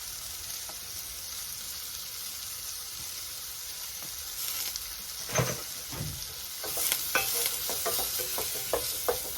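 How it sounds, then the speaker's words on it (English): Onions with ground cumin sautéing in a pan, a steady faint sizzle with occasional spatula scrapes and stirring knocks, close but quiet and without talk. "Saute this for 5 minutes."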